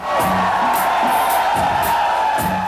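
Packed New York City nightclub crowd roaring at a 2 a.m. show, steady loud cheering with repeated whoops and shouts layered over pounding music.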